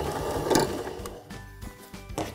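A sewing machine back stitches elastic onto shirt fabric, its needle chattering in a fast, steady mechanical rhythm at close range, then slowing and pausing in short stops and starts.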